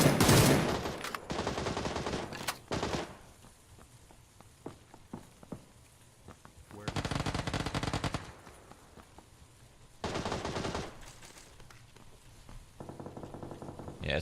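Beryl M762 assault rifle fire in PUBG comes as several loud, long bursts separated by quieter gaps, the rapid close shots rattling densely with a short burst at the end.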